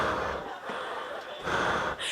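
A person imitates the sound of their own breathing echoing inside a steel helmet: heavy, hollow gasping breaths in and out over about two seconds, close and continuous.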